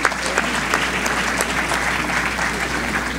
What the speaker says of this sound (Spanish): reciba un aplauso